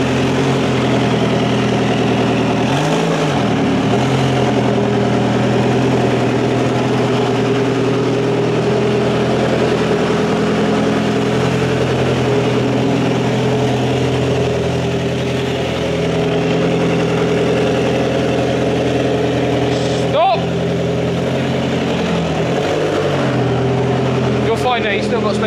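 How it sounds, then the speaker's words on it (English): A Lotus sports car engine idles steadily nearby for the whole stretch, a loud, rough, continuous drone with a slight rev or shift near the end, while people talk now and then over it. "So Alex is bringing the Lotus in"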